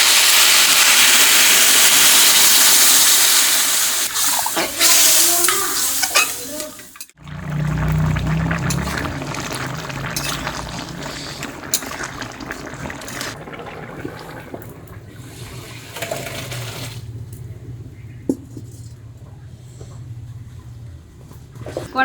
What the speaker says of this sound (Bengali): তরকারি সুন্দর করে কষানো হয়ে গেছে, এখন দেবো জল।